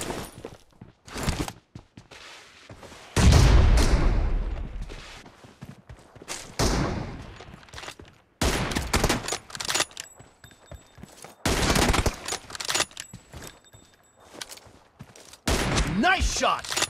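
Gunfire in a Battlegrounds India team deathmatch, with M24 sniper rifle shots ringing out as loud, heavy blasts and bursts separated by short pauses, some close and booming, with game sounds between them.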